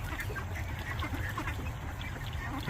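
Ducks quacking and chattering in a steady noisy cluster, with splashing water and a constant background rumble.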